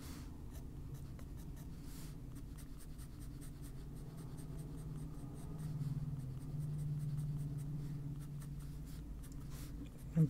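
Colored pencil shades across paper for an adult coloring page of a bunny, a steady soft scratching that swells slightly midway, close and quiet with no talk.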